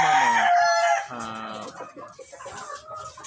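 Chickens in a backyard coop, a rooster crowing loudly and close for about a second, then hens clucking and cackling in a busy overlapping flock.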